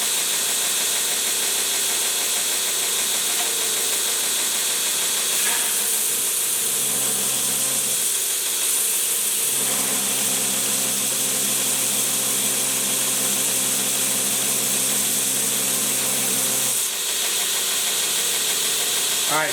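A 3-inch Greenlee slick chisel has its steel bevel reground on a grinder, a steady loud mechanical whir and hiss running throughout with shifting tonal bands as the blade is pressed and lifted, no talking.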